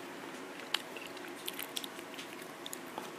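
Someone chews on cheap wireless headphones, giving sparse, faint, close-up clicks and soft crunchy bites scattered over a quiet background, with no talking.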